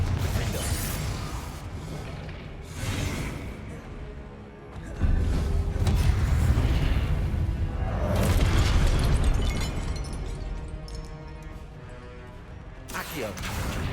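Confringo spell explosions burst in Hogwarts Legacy, loud booms and crackling blasts mixed with combat effects while a player shouts.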